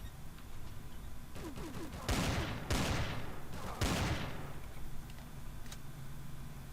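An automated turret in the game Empyrion letting off three loud bursts of rapid fire in close succession, each a couple of seconds apart, over a low steady background hum.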